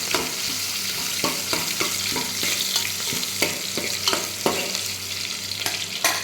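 Onions fry in a pan for Rayalaseema-style uggani made from puffed rice, a continuous close sizzle broken by repeated scraping and stirring sounds, with no talking.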